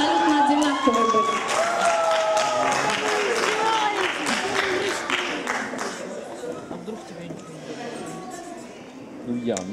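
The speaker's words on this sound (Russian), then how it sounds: "Аплодисменты абсолютно одинаковые будут." Audience applause at a vocal battle in a music contest in Novorossiysk, steady clapping and crowd noise running throughout while singing and voices carry over the top, fading slightly toward the end.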